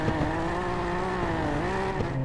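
A Formula One car in the racing game RaceLeague screams with a buzzing, warbling engine note that dips and rises, with rough backfire-like pops in a short, continuous burst.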